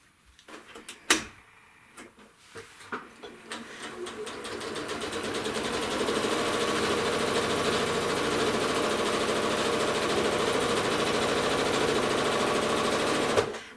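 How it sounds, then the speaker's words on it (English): Sewing machine with a walking foot stitching through a quilt, starting with a few clicks and short bursts, then running in one long, steady, close whir. "I'm now going to stitch on the other side of that seam line."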